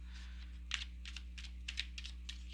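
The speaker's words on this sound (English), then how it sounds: "One more shuffle." Tarot cards being shuffled by hand at a close-up reading table, a run of soft, crisp riffling bursts in quick irregular rhythm over a steady low electrical hum.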